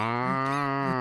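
A cow in The Legend of Zelda: Ocarina of Time gives a single sustained electronic moo, steady and fairly loud, heard alone with no voices.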